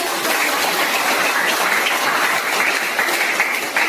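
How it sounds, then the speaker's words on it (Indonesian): Audience applause in a classroom teaching session, dense steady clapping from many hands that stays loud and even throughout, with no voices. "Tepuk tangan untuk semua."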